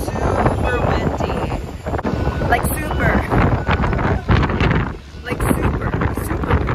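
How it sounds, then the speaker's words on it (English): Strong wind in Kotzebue buffets the microphone in loud, gusty rushes that rise and dip throughout, with people talking under it. "it's super windy"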